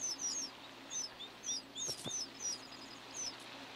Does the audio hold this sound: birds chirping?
yes